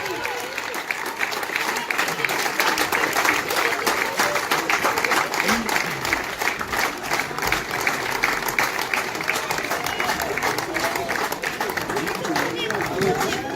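Crowd at a youth land-sailing national championships trophy presentation in France breaks into dense, sustained applause, many hands clapping steadily for over thirteen seconds, with murmured chatter and a voice mixed faintly underneath.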